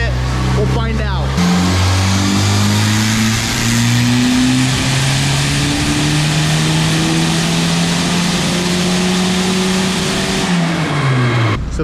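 A boosted Honda Accord engine on a dyno revs up in one long, loud pull, its pitch climbing steadily through the gears before dropping off as the run ends, heard close up.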